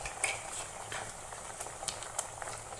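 Coconut curry mixture with beans and plantain bubbling in a pot, a steady soft simmering hiss with faint crackles and occasional light clinks, close and continuous.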